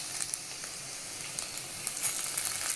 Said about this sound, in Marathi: लाल झालेला आहे त्याच्यामध्ये आपण आता टोमॅटो टाकून घेऊया